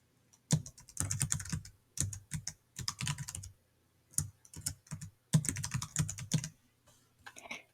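Email address typed on a computer keyboard, bursts of quick clicking keystrokes separated by short pauses, close and clear with nothing else heard.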